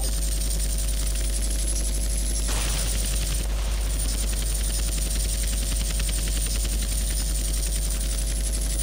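Aircraft flying, a steady loud rotor-like drone with a thudding pulse that stays dense and unbroken throughout, heard close with no voices.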